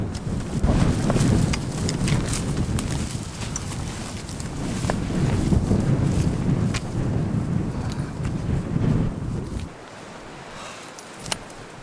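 Strong wind roars steadily across a steep mountain trail on Mandango, a 2028 m peak in the Andes of Ecuador, buffeting loudly for most of the time before dropping suddenly to a quieter hush near the end.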